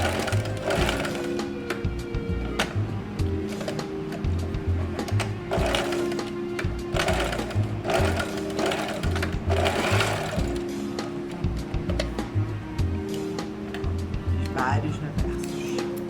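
A sewing machine stitches elastic in fast runs of rhythmic mechanical whirring with short pauses between bursts, while someone talks over it.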